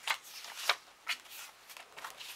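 Pieces of paper are handled close by, with a few quiet rustling swishes spaced about half a second apart and no talking.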